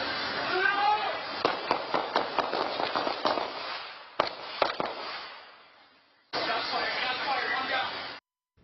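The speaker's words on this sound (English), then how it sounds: "followed by more than 8 gunshots" A rapid string of more than eight sharp gunshots, captured by a surveillance camera during a police shooting, cracks out in irregular bursts, with a short gap before a final flurry.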